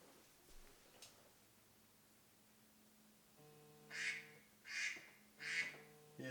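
A toy duck quacks four times in even, spaced bursts during home film developing with CineStill powders, loud and close over a faint steady hum, with no talk.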